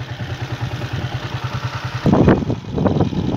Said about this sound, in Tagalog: Nakasakay na dito sa motor, sa Honda.